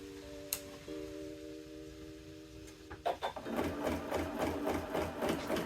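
A sewing machine doing free motion quilting on circular clamshell patterns, first a few slow stitches, then a fast steady rapid needle rattle up close, with no talk.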